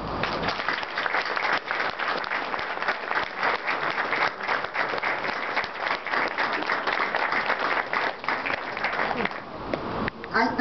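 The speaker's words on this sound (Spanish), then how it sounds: "para los que ya les pido un aplauso" Audience applause at a Mexican book presentation for a dictionary of Mexican writers, sustained dense clapping from a full room that holds steady for about ten seconds before thinning slightly at the end.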